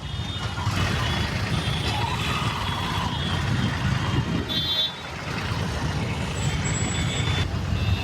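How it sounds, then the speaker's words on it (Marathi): Heavy road traffic stuck in a jam with trucks and buses, a dense, continuous engine rumble close by with faint beeping and a brief hiss of air brakes, no talk over it. "इतकं ट्रॅफिक की खूप वेळ झाला पण अडकून बसलोय"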